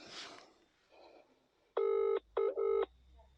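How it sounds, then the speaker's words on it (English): A telephone is dialed and rings: after some soft handling rustle, two loud, steady electronic tones sound in quick succession, separated by a short gap. "Let me just ring Johnny Adair."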